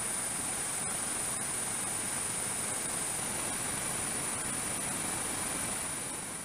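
A helicopter holds a steady hover about 50 feet above a spot, its rotor and engine forming a constant broad roar at even loudness throughout, with no voices.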